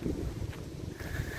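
A light outdoor breeze near Rozier-en-Donzy in the Loire buffets the microphone with a steady low rumble for a brief moment, with no one speaking.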